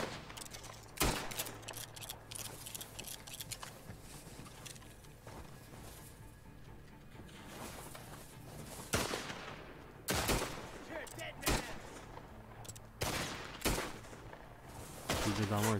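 Gunfire from Red Dead Redemption Online: sharp single shots break out at irregular intervals over a dense layer of game noise, loud and close, with a player's voice in the mix.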